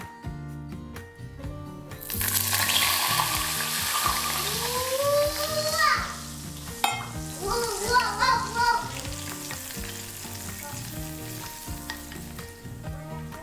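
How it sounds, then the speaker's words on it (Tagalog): Hot oil is poured over honey, soy sauce and rice vinegar for spicy peanut noodles, setting off a sudden loud, crackling sizzle that settles into steady bubbling over background music. "Tapos bubuhusan nyo ng mantika."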